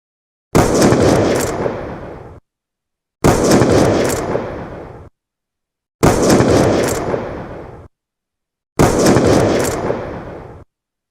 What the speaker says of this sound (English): First punishment, shooting your kneecaps with a gun.